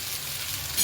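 Coriander vadi (kothimbir vadi) frying in a pan, a dense, close crackling sizzle of hot oil that holds steady for a brief moment without any voices.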